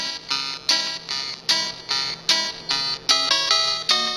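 A Tetris video game ringtone plays as a bright, buzzy electronic melody of short, evenly spaced notes in a steady, repeating rhythm, alone and fairly loud.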